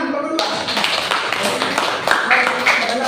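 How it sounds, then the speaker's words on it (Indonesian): A classroom of students claps for group 2 in a short, dense burst of applause that fills the room, mixed with people talking. "Tepuk tangan kelompok 2."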